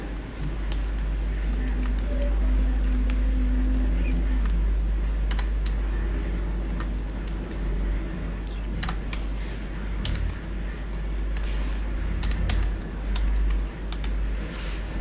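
A computer keyboard clatters with quick, irregular keystrokes while text is entered in Photoshop, close and steady over a low hum, with brief pauses between bursts.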